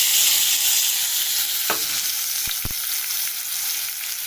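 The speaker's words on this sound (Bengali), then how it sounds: "এখানে পেঁয়াজ কুচি, আলু কুচি, এই যে ক্যাপসিকাম কুচি দেখতে পাচ্ছ, এগুলো তেলের উপরে দিয়ে দেওয়া হলো" Chopped onion, potato and capsicum frying in oil, a dense steady sizzle broken midway by a few quick knocks of a spoon against the pan.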